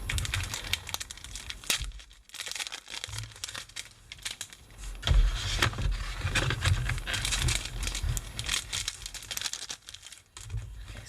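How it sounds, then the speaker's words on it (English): Plastic packaging around a paper assortment is opened, giving continuous close crinkling and rustling with occasional tearing bursts, irregular and fairly loud, with no talking. "we'll open this up and look at the paper if I can figure out where it opens"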